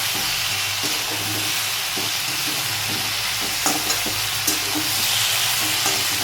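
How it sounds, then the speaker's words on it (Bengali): Potatoes and okra frying in a pan as ginger paste is stirred in, a dense, steady sizzle and hiss with occasional soft spatula scrapes, close and even. "আদা বাটাটা দিয়ে আমি একটু নেড়ে চেড়ে দেবো"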